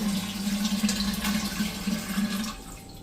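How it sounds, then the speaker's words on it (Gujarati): Water pouring steadily into a clay drinking pot (matka) to fill it, a continuous close trickle that runs unbroken for a few seconds before stopping. "તમારે આ રીતે પીવાનું માટલું ફૂલ કરી લેવાનું છે"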